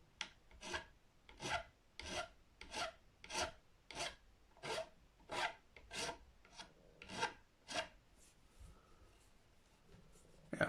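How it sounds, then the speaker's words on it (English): A file works down the sharp corners of the nut on a Gibson SG Special, giving about fifteen close, evenly paced rasping strokes that slow and thin out toward the end. "Next I'm just going to file down the now."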